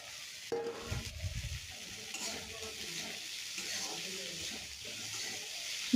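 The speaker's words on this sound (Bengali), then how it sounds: "হলুদ গুঁড়ো ও ভাজা সেই সজনে ফুলগুলি দিয়ে ভালোভাবে মিশিয়ে ভাজা ভাজা করে নিতে" Drumstick flowers and tomato with turmeric powder are stirred in a pan with a spatula, giving a quiet, steady sizzle broken by a few scraping clunks near the start, close but soft.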